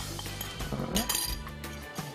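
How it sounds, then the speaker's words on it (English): A metal whisk beats beignet batter in a bowl, giving quick clinking taps and scrapes against the sides over a steady kitchen background. "Give that a nice mix. And I'm just using a whisk"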